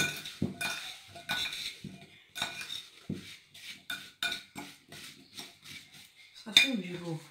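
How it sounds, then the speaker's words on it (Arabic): Apple tart batter being mixed in a bowl, heard as a steady series of scraping, clinking strokes of a utensil against the bowl, close and fairly loud, with no talking. "نخلطو مزيان"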